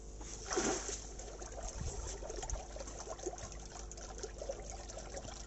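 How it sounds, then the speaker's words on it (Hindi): Water and sludge drain from the outlet pipe of a biofloc fish tank in a quiet, steady trickle, with a brief splashy gush near the start and soft dribbling continuing afterward. "ମୁଁ ଏବେ ଆପଣଙ୍କୁ ଡ୍ରେନ୍ କରିକି ଦେଖାଉଛି ସ୍ଲଜ୍ କେମିତି ରିମୁଭାଲ୍ ହୁଏ ୱାଟର୍ ଡ୍ରେନ୍ କଲାବେଳେ"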